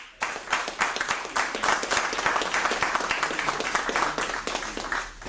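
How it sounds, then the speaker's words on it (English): Audience at a school board meeting applauding steadily, a dense wash of many hands clapping at close range that holds for about five seconds without talk. "So just a round of applause."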